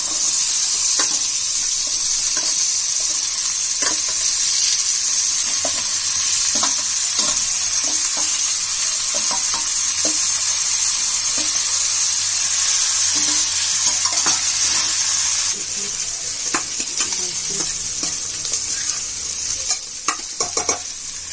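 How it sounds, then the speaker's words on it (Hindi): Onion fries loudly in oil in a pan for a long stretch, a dense constant sizzle with scattered scrapes and clicks of stirring, easing slightly near the end. "अब इसको भूनेंगे थोड़ी देर तक। अब प्याज भून जाएगा"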